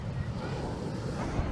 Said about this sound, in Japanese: 波があるね、今日はね。